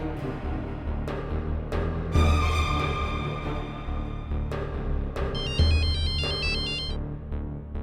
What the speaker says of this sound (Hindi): प्रिया, प्लीज मुझे बार बार फोन मत करो।